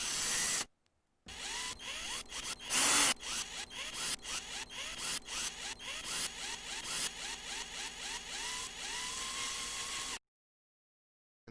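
Recorded power drill samples play back in a music workstation, a rapid run of short whirring bursts that cut each other off in a stuttering, rhythmic pattern, loud and close with no voices, ending in a brief silence.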